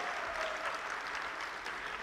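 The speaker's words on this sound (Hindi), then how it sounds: "Parents, ek baar zordaar taaliyan hamare nanne Radha ji aur Kana ji ke liye." Parents in an audience at a children's school event clap for young performers dressed as Radha and Krishna, a dense, steady round of applause, fairly soft and continuous throughout.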